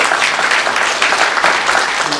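A church congregation at a Korean Sunday worship service gives a steady burst of dense applause, many hands clapping evenly and fairly close for a couple of seconds with no talking over it.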